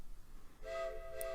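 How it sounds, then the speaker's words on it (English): A train whistle sounds in a children's sleep story, a faint, steady tonal blast that begins after a quiet opening and holds for the rest of the short moment. "There's the whistle. It's time to get back on the train."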